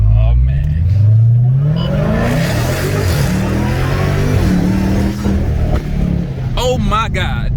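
A Dodge Scat Pack 392 V8 with a Dynomax exhaust, mid-pipe and mufflers deleted, revs hard and close with a deep, throaty rumble that climbs and falls. Excited voices talk over and after it.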